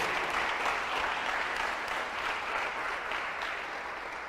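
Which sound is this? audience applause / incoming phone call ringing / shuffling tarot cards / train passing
audience applause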